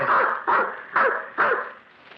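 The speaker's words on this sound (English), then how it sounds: "I took with me Flush, a cocker spaniel he had entrusted to me" A cocker spaniel in a 1940s mystery radio drama barks four times in a quick, evenly spaced series. The barks are close and clear, with no talking over them.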